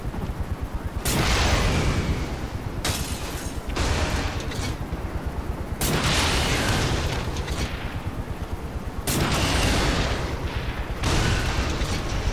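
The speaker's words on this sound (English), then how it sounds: "I'm shooting at him." Heavy gunfire from the Saints Row 3 video game comes in several loud sustained bursts separated by brief pauses, with booming low rumble beneath each volley.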